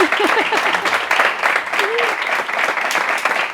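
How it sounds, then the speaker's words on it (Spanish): An audience applauds a violinist as she is welcomed to give a talk: steady, dense clapping fills the room for several seconds, with a few voices calling out over it. "un fuerte aplauso para ella"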